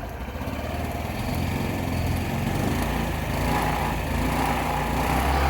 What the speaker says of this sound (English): it revs up really high right there and then goes back down to normal idle